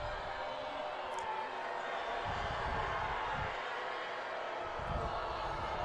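Spectators at a high school football game between McNary and South Medford roar their disapproval after a rough tackle. The sound is a steady, distant wash of crowd noise with no single voice standing out.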